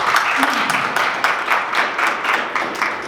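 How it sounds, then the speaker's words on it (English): Audience applause at a Christmas quiz event, a round of clapping rising in uneven bursts for a prize winner, fairly close, with some murmured voices mixed in. "round of applause for that"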